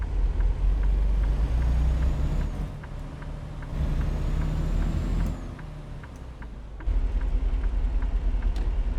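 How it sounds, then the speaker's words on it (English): A line of cars passing a stopped truck in American Truck Simulator, with a loud low engine rumble, swells and drops in traffic noise, and a few sharp clicks and whooshes of vehicles going by. "This is when a line of cars come."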